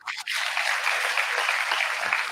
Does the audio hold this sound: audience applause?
yes